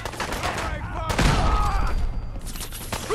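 A grenade blast and rapid gunfire in the Fallout 4 video game, with a loud burst in the middle of a busy firefight.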